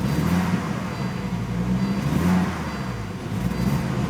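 A Volvo 850 GLT engine idles roughly nearby, its low hum wavering unevenly in strength as it misfires, with no talk over it.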